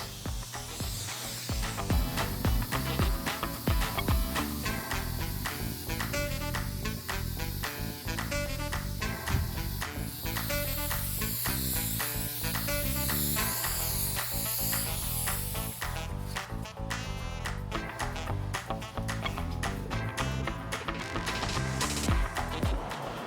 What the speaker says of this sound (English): I just spray this on, leave it for about a minute or so, and I wipe it off with the clean rag